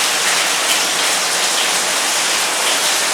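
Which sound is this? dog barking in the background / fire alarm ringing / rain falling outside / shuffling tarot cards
rain falling outside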